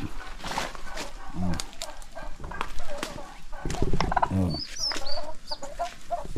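Chicks and chickens on a small backyard poultry setup, calling and clucking in repeated bursts at close range over steady background noise, with a couple of louder cackles mixed in.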